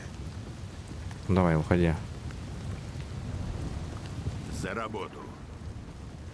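Steady rain with rumbling thunder in the video game Desperados 3, a continuous wash of rainfall under two short bursts of game character speech.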